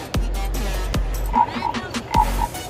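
Deep, resonant frog croaks boom out one at a time, interleaved with rhythmic chirping calls, loud and close with no talking, at a reptile and pet expo.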